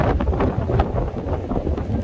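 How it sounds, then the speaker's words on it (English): Strong wind by Lake Winnebago at Lakeside Park lighthouse, Fond du Lac, Wisconsin, buffets the microphone in a constant loud, rumbling roar, gusting without a break. "It is really windy."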